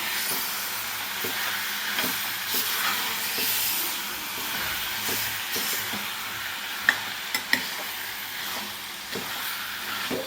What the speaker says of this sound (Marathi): तर अशा पद्धतीने आपण हे सगळं मिक्स करून घ्यायचं आहे।